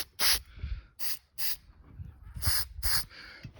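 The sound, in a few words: Spray 77 adhesive sprayed as a mist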